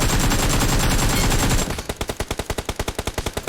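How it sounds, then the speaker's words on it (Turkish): Suppressed MG3 machine gun fire in the mobile battle-royale game PUBG Mobile, a dense continuous burst followed by a rapid, evenly spaced string of muffled loud shots. "Şurada susturucuyla sıkıyorum."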